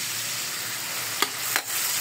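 Bell pepper fries in a pan for a beef mechado, giving a steady, moderate sizzle with a couple of short clatters of stirring and no talking.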